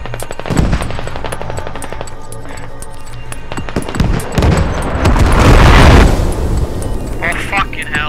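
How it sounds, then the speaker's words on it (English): Artillery shells land in the Squad military video game, producing loud, heavy blasts and rumbling booms alongside rapid gunfire, while a voice talks over the barrage. "Artillery strike incoming."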